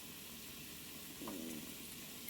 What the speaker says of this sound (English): Nice and hot there. Sizzle, sizzle.